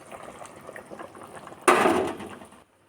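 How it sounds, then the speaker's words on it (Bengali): Eggplant goes into a simmering fish curry with a sudden splashy sizzle that lasts about a second, after quiet kitchen bubbling, then cuts to near silence. "বেগুন দিয়ে দিচ্ছি"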